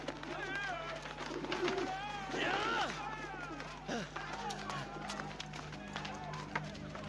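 Pigeons coo and chatter amid a busy scuffling commotion, with voices mixed in, fairly faint overall.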